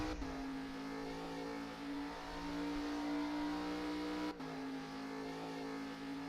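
A V8 ute race car engine at the Red Bull Ring in a racing game, a steady droning hum at constant pitch from inside the car, holding loud with a brief dip as it shifts down a gear.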